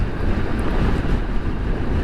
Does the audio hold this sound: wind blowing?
yes